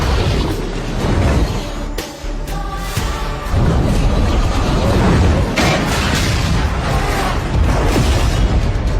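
A gas cylinder explodes with a powerful boom, destroying aircraft wreckage, followed by a dense, sustained roar of rumbling and crackling debris, loud and close.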